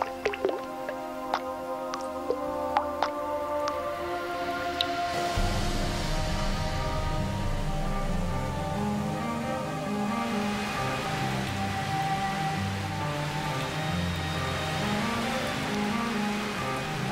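Steady rain patters and drips on leaves in the Amazon rainforest, with scattered dripping at first and then a dense, continuous downpour filling the background.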